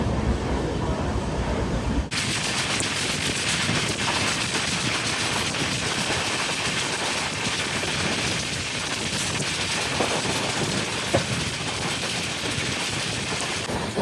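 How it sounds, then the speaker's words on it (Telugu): LHB coach train of the Tirupati Express rounding a sharp curve at Kadiyam, a steady loud broadband rumble and rush of wheels and wind heard from inside a general coach, continuous throughout. "మన ట్రైన్ అయితే కడియం టర్నింగ్ కొడుతుంది"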